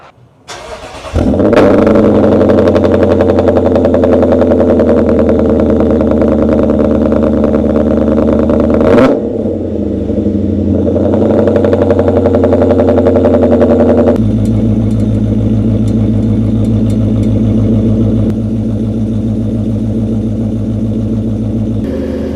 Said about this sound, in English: how loud it is for a cold start